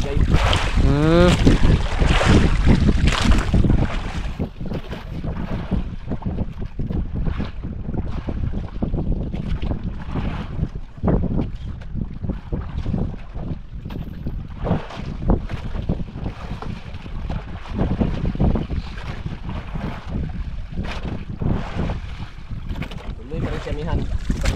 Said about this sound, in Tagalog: Tuloy pa rin si Amihan.